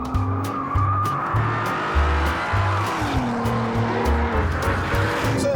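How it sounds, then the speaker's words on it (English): Audi TT with a 3.2-litre V6 and four-wheel drive, its engine and exhaust droning steadily up close, pitch rising and falling through gear changes, with brief tyre squeal. "They've used the same exhaust technology that we first saw on, I think, the Ferrari 355, so it's very quiet when you're cruising and then a bit snorty when you're not."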